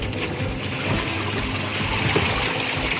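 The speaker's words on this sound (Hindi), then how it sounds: "ये देखिए वॉशिंग मशीन में हमारी पानी आ रहा है।" Water rushes steadily into an LG 8 kg semi-automatic top-loading washing machine. It makes a continuous, close hiss layered over the machine's low running hum.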